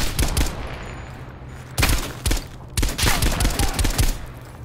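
Gunfire in Call of Duty: Black Ops Cold War comes as loud, close bursts of rapid automatic shots, with short pauses between them.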